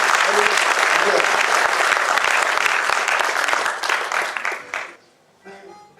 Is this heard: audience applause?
yes